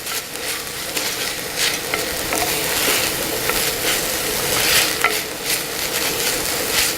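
Bacon and garlic pasta sizzles continuously in a camp pan while being stirred, with scraping and rattling from the spoon against the metal, steady and close up with no talking.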